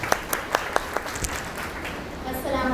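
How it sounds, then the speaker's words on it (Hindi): A handful of scattered handclaps in a Montessori classroom greeting a teacher, a few close claps in the first second that soon trail off beneath a continuing murmur of voices and room noise. "इनके लिए तालियां।"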